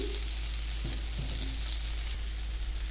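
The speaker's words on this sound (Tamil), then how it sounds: "இது மாதிரி எடுத்து வச்சுட்டு மேலே லைட்டாக எண்ணெய் ஊற்றிக்கோங்க" Potato slices frying in oil in a pan for a potato roast, a constant, even sizzle with a low hum beneath and a few faint knocks, with no talk.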